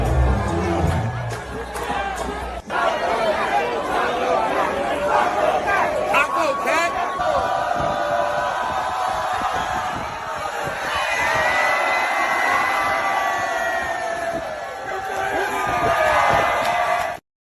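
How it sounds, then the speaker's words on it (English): A wrestling arena crowd roars, cheers and chatters throughout a match, a dense, loud wash of voices with whoops and swells, under occasional commentary. "the crowd is into this for some reason"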